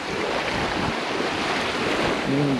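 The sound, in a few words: waves meeting at a sandbar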